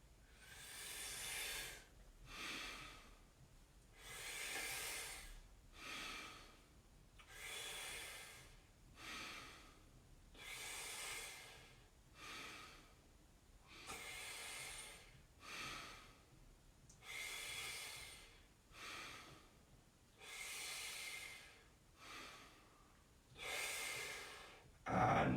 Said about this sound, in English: it should be a whooshing sound as if you're sucking a straw